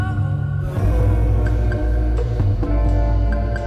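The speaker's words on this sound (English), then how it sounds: "And that sound is a sonar from a submarine" Submarine sonar ping effect inside a song, a few short pings standing out over a full, steady music mix with low bass.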